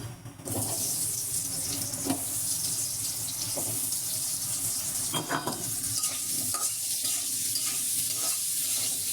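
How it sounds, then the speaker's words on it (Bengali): Frying in a pan while making mutton biryani, a steady close sizzle with scraping stirs and occasional clinks of a spoon against the pan. "ভেজে নিচ্ছি"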